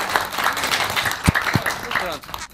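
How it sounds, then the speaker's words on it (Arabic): Audience applause on a children's television show, a brief burst of clapping with voices talking over it, fading out toward the end. "أعطونا تصفيق."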